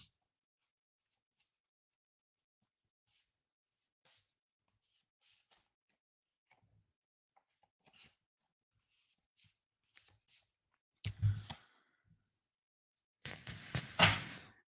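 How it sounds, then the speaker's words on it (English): Reading cards being shuffled and drawn for a psychic card reading, mostly quiet with scattered soft ticks and rustles, then a couple of brief louder shuffling bursts near the end. "I'll pull some cards for this."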